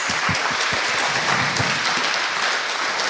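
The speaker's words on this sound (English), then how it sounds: "Big applause." Sustained applause from an audience, a dense steady wash of many hands clapping at even loudness throughout, with no voices on top.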